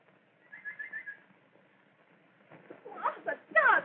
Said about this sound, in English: The nightingale.